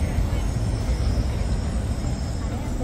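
A tram rumbles past on a street in Milan, a steady, loud low-pitched roar of wheels and traffic noise lasting throughout with no pauses.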